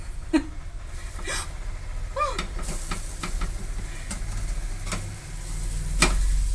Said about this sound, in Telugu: ఇప్పుడు దీన్ని తిరగేసుకుందాం. ఇప్పుడు ఇది తిరగడం పెద్ద టాస్క్.